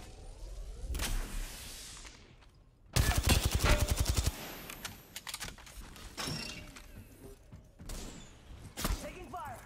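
Video game gunfire in an Apex Legends-style battle royale: a loud dense burst of rapid shots in the middle, with scattered impacts and keyboard clatter around it and a voice speaking at times.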